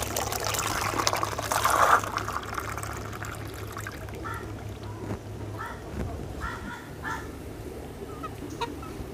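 Water pours into a container to rinse thawed frozen artemia, a steady liquid rush up close that eases off, with faint trickles and light clinks afterward.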